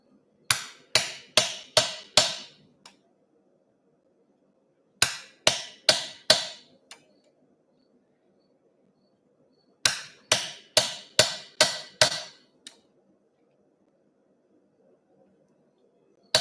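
A blacksmith's hammer drives a nail punch into a forged horseshoe: three bursts of five or six sharp, ringing blows in quick succession, separated by pauses. The strikes are close and loud, with no talking.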